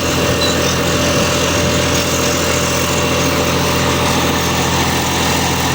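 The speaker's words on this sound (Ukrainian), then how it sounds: "Вакуум працює." A homemade vacuum seeder runs steadily and loudly while planting pumpkin seeds. Its engine-like drone holds constant the whole time, with no talk over it.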